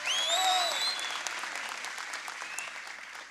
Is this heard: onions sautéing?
no